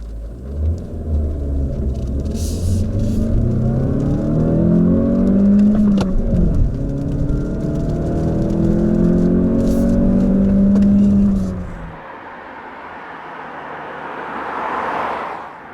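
A Mazda 3 Fastback with a Skyactiv-X engine accelerates hard, its engine note climbing through the gears with a loud rumble before dropping off, leaving a fainter whir of motion.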